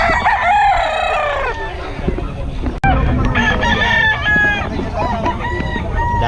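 Gamefowl roosters of Brownhead and Roundhead lines crow loudly at a crowded market, with several overlapping cock-a-doodle-doos and clucks, near and far, over a busy background and a faint voice.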